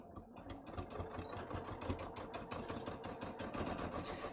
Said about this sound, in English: I'm just going to sew this back up using just my regular straight stitch